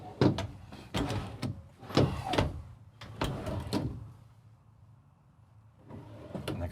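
Several large, deep wardrobe drawers in an Entegra Esteem 29V motorhome slide open and shut in quick succession, with sharp knocks and rattles, then a quiet pause before more sliding noise.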